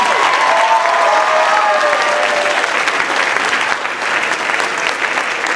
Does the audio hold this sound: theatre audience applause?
yes